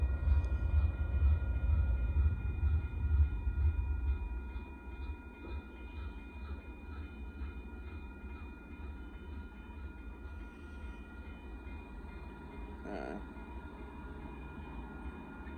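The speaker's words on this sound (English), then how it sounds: "That train was going at over speed." Northbound Union Pacific mixed freight train passing at FM 1626 in south Austin, Texas, starting as a loud low rumble that fades into a steady, quieter rolling drone with faint metallic squeals and clanks.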